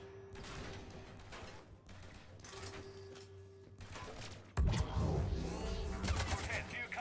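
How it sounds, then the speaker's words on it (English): Mass Effect 3 combat gunfire: bursts of shots with mechanical clatter, steady at first and then louder, denser fire near the end, mixed with game voices and background score. "I hear the gunfire, but I don't see them."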